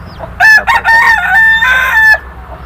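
A rooster crows loudly and close among clucking chickens at a small poultry farm in Chalisgaon, one long drawn-out crow broken into several rising and falling segments over faint background noise.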